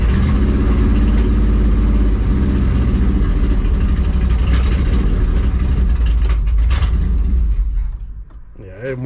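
A 1968 Chevy Suburban engine runs rough and loud, refusing to settle into an idle, with a steady low rumble that sags and stumbles near the end before picking back up.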